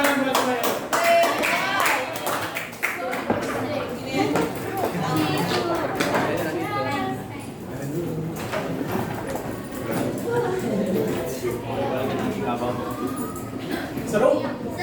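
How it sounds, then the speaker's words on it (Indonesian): School workshop audience clapping, uneven bursts of hand claps mixed with chatter and voices throughout a noisy room. "Beri tepuk tangan buat saya."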